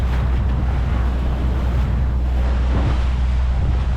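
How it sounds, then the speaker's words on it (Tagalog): Strong wind buffets the microphone in a steady, loud roar, with surf and sea noise rumbling underneath throughout. "Yun, dito mahangin."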